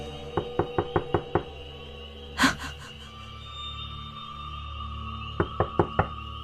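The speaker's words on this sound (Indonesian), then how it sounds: "Sekarang aku mendengar suara ketukan pintu dari di depan kamarku." Knocking on a bedroom door at night, two bursts of quick rapping, six and then five sharp knocks, separated by a brief louder thump, close and clear in a quiet room.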